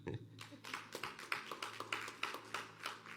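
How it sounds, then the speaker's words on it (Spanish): Audience applause for a sister at a church Bible study, a short run of faint, evenly spaced claps under a low room background, fairly quiet and distant. "Denle un aplauso a la hermana"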